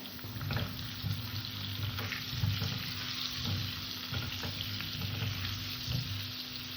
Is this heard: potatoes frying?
yes